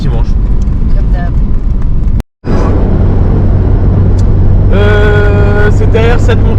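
Car being driven on a road toward Cradle Mountain in Australia, with a constant loud cabin rumble and engine drone, a momentary dropout, and people talking over it in French.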